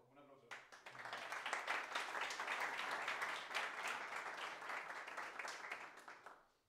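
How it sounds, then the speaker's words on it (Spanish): A conference audience breaks into applause after a talk on outside-in TDD, a dense, sustained roar of many hands that swells quickly and holds steady before tapering off at the end. "Un aplauso."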